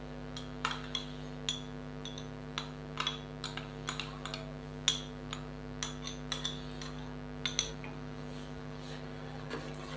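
Spoonfuls of curd added to cooking masala in a pot, heard as a series of light metallic spoon clinks and taps against the vessel, scattered irregularly over a steady low hum.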